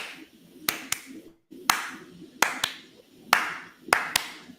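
Crisp hand claps close by, struck in short rhythmic groups of single and double beats separated by brief pauses, over a soft low background hum.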